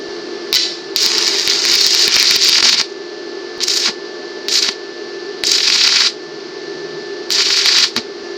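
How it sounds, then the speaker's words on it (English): A stick welder runs a lap weld on 1/8 inch steel in several bursts of loud, close crackling and sizzling arc noise. Short quiet gaps separate the bursts, and no one talks. "we're just gonna go for one more lap weld here on the 1/8 inch"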